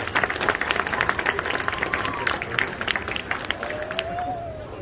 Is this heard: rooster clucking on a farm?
no